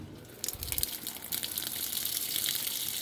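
Water rushes in through the inlet valve of a Whirlpool direct drive washer during a diagnostic test, beginning with a sudden gush after a short quiet moment and then running as a steady, hissing fill.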